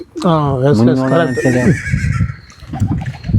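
A mobile phone plays a horse-neigh ringtone: one loud, rising-and-falling whinny lasting about a second and a half, followed by quieter rustling background noise.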